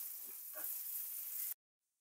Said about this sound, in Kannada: ರುಬ್ಬಿದ ಮಸಾಲ ಹಾಕ್ಬೇಕು ಇದಕ್ಕೆ.